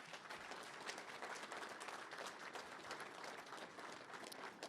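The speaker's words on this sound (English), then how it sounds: "Would you, gentlemen, give them a round of applause?" A crowd at a football national championship ring ceremony claps in steady, continuous applause, fairly faint and distant, with no voices over it.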